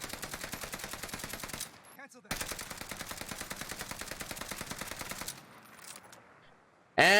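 Rapid automatic rifle fire from the Warzone video game, aiming down sights to test recoil with a Vanguard rear grip: two long, steady bursts of evenly spaced shots, a short gap between them, then a quieter stretch at the end.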